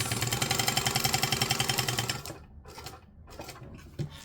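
A sewing machine stitches a pattern alteration with a fast even whir and rhythmic needle pulses for about two seconds, then stops, leaving a few soft handling clicks and a small knock, close by.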